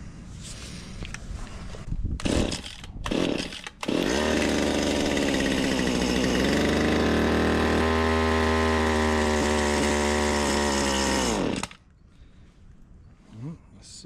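A Stihl HS80 hedge trimmer engine starts from choke and fast idle, roaring loud and steady for several seconds as it labours and bogs, then cuts out abruptly, with short rattles and handling noises before and after.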